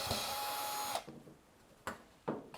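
A power screwdriver whirs loudly for about a second on a Fisher Paykel dryer panel, then two brief, sharp bursts follow as screws are backed out, with quiet gaps between.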